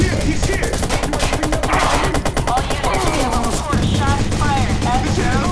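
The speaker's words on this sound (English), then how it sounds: "There's a big shootout going on at the Barrows in Brandon." A Watch Dogs gunfire shootout at the Barrows in Brandon, with loud, fast automatic bursts crackling in tight rhythmic volleys for several seconds, close and dense, while shouted voices break through the chaos.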